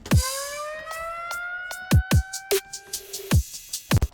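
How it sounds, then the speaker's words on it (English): A rising, wailing siren effect sweeps upward over punchy drum hits at the start of a hybrid trap drop, loud and prominent with a rhythmic beat underneath. "Start out with this siren because the drop has kind of a delayed start."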